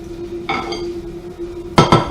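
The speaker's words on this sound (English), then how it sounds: "take the pan off the heat" A frying pan lifted off the stove and handled while making lasagne, giving a couple of close metallic clanks and scrapes, the sharpest pair near the end, over a steady low hum.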